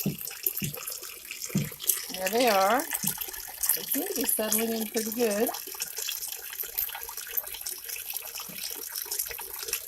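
Water pumped up into a bucket waterfall spills steadily over a pond, a continuous splashing wash running through the whole stretch while a person speaks over it.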